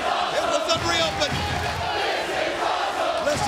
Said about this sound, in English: They're chanting, this is awesome, because this Monster's Ball has been off the charts